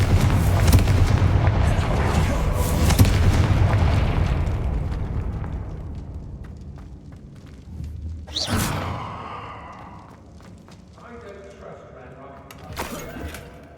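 Spell explosions from Confringo cast in the Hogwarts Legacy video game: a loud sustained rumbling blast at the start that fades out, then a few sharper, quieter bursts later, with game sounds between them.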